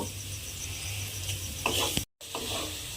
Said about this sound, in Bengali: সেই আলুটা আমি এর মধ্যে দিয়ে একটু লাল করে ভেজে নেব